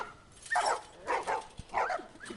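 Dogs in The Last of Us video game give short barks and whiny yips in a scattered run of calls, mid-distance, with no talk over them.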